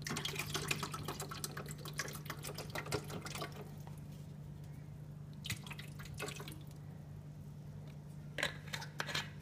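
Liquid poured into the water container of a Keurig coffee maker during cleaning, faint splashing and dripping trickles over a steady low hum, quieter in the middle and picking up again near the end.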